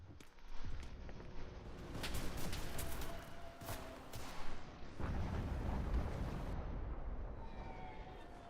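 A grenade explodes in a Japan versus Soviets shooter game event: a booming blast followed by a rumbling roar, with a second burst and heavy low rumble later, amid background gunfire.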